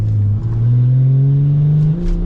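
BMW M240i engine held at steady revs with rolling anti-lag engaged, a loud continuous droning hum whose pitch climbs slowly and evenly, heard from inside the car.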